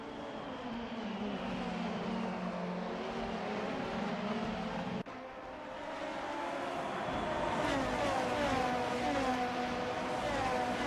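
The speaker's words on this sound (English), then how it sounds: "The sound of inline 4 engines round through Sepang" Inline-four race car engines lapping the Sepang circuit in a racing video game, a continuous loud drone with rising and shifting engine pitches as cars run together, no talk over it.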